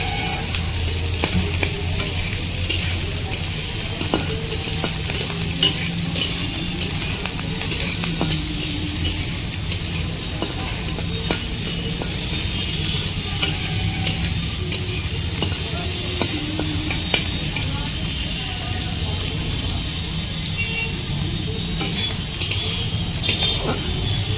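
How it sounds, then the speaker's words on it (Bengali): Roughly chopped onions frying lightly in a small amount of oil: a dense, continuous close sizzle with occasional stirring clinks and scrapes throughout. "আমি শুধু পেঁয়াজটাকে হালকা ভাজার মতো।"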